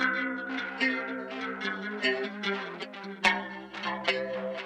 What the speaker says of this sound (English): And then a tape echo just to add something more to it